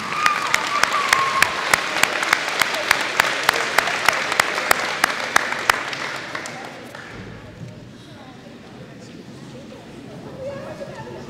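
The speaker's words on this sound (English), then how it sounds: "One more round of applause, most improved." An audience at a seventh grade academic awards ceremony applauds the most improved students, sustained clapping with distinct sharp claps for about six seconds before fading out into quiet room murmur and talk.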